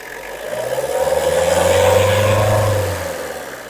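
A Tata Indica car engine revs up and holds a steady, loud drone before easing off, heard up close with no talk.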